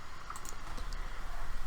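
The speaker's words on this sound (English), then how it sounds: "to start typing some code" Clicky typing on a computer keyboard while writing C# code, a brief run of close keystrokes over a low background hum.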